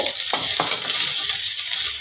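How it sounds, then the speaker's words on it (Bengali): Onions and green chillies sizzle and crackle steadily in a hot pan, with a couple of quick scraping stirs near the start. "পেঁয়াজগুলোকে একটু ভাজা ভাজা করে নেব"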